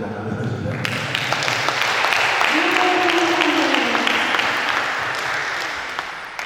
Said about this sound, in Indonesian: Kita kasih tepuk tangan dulu sudah.